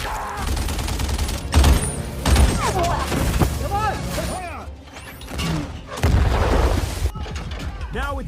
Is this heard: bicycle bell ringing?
no